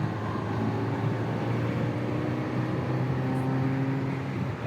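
A Ferrari 348 ts engine hums steadily while driving, a continuous low droning tone heard from inside the car, even in loudness throughout with no talk.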